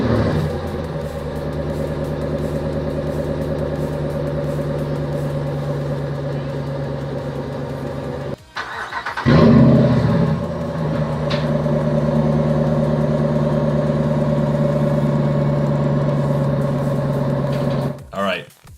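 A 2013 RAM 1500 Laramie's 5.7 liter HEMI V8 idles with a steady hum, cuts out briefly, then cranks and roars to life with a loud surge before settling back into an even, rumbling idle.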